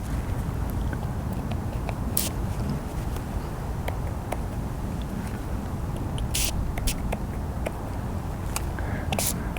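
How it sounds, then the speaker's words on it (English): A spray bottle mists water onto a plein air watercolor painting of grass outdoors, making a few short, soft hissing bursts spaced several seconds apart over a steady outdoor background. "I'm going to use a spray bottle."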